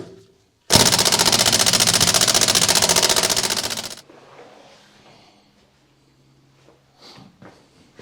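An air impact tool driven by a compressor at max pressure hammers a lug nut off a GMC Sonoma truck wheel in one loud, rapid burst lasting about three seconds, followed by faint clinks.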